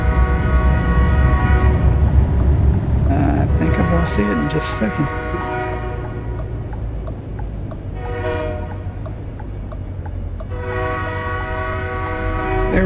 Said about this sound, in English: There's a train over there somewhere.